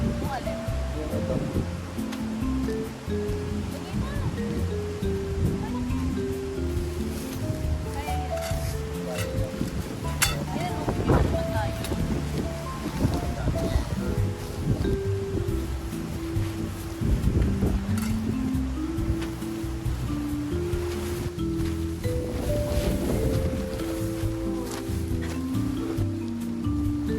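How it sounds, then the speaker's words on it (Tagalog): Strong wind roaring across an outdoor campsite at Marcis Point in Tanay, Rizal, a continuous loud rushing gust noise with clinks and rustling, while people talk over it. "masyado na malakas yung hangin"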